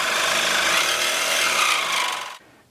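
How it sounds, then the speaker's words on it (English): A seized bolt on a Toyota Tacoma front strut is cut close to the flange, giving a loud, harsh, steady grinding rasp up close that runs for about two seconds before stopping abruptly. "as a last resort I just cut this as close to the flange as possible."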